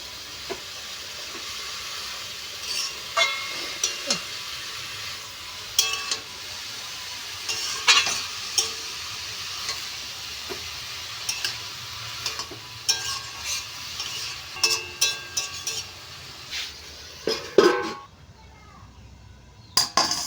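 Cabbage and a fish head cooking in a pan give a soft, steady sizzle and hiss, with scattered stirring scrapes and clinks of utensils on the pan. Brief quiet speech is heard near the end.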